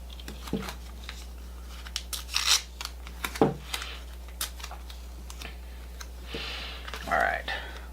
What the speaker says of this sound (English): we're gonna take this piece of tape and rip it into littler pieces of tape.